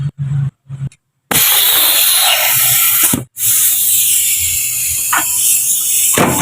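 A pneumatic impact wrench works the nuts on the rear absorber of a Proton Wira, giving loud hissing, rattling bursts that stop and restart several times up close in a workshop.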